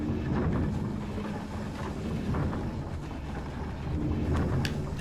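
Wind in the Night in the Woods video game, a dense rushing roar with low rumbling gusts that swell and ease over a few seconds, steady and fairly loud with no talking.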